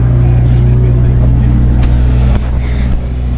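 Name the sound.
modified car engine revving through large oval exhaust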